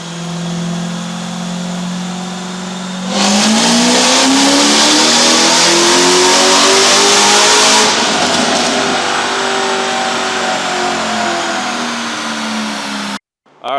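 A Corvette ZR1 engine, suspected of a restrictive exhaust, roars through a full-throttle pull, its pitch climbing as it revs hard and loud, then easing off as the throttle is lifted, with no talk over it.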